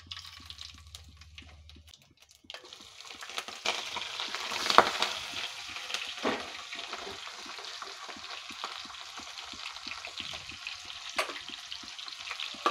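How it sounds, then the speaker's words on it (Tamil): Mustard seeds crackle and spit in hot oil in a pan, a quiet start followed by continuous fine popping and sizzling with scattered sharper pops. "இப்போது எண்ணெய் காஞ்சிருச்சு, நம்ம கடுகு போடலாம்."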